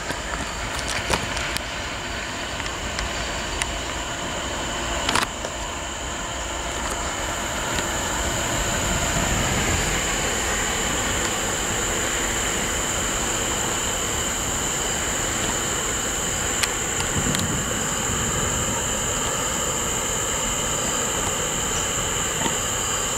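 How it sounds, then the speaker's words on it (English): A CVSR train, number 16, rolls northbound through Boston Heights, Ohio, with a steady mid-distance rumble of wheels on rail. Insects or crickets buzz on a high note throughout, and there is no talking. "CVSR, train number 16, northbound"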